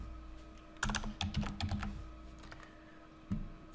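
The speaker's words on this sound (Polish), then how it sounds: "Wpisujemy nazwę." Quick bursts of keystrokes on a computer keyboard as a name is typed into CAD software, clustered clicks near the start, then a brief pause and a few final taps, close and moderately quiet with no talk.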